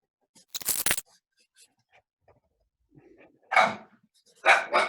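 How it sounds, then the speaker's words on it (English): A dog gives a few sharp, close barks, a quick cluster early on, then two louder separate barks after a short pause, with quiet gaps and a faint low growl between. "there's our dog. He barks anytime anything undead approaches"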